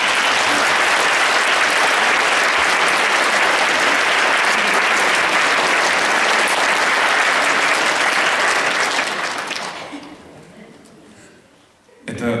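Sustained audience applause greets two young women as they come up to receive prizes, loud and steady for about nine seconds before fading out, with a brief burst at the very end.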